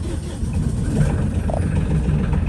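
A boat's starboard engine idles with a steady, low rumble continuously at moderate loudness, with a constant throaty drone and faint mechanical texture throughout.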